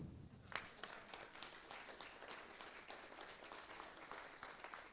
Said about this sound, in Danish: Det må I godt klappe af.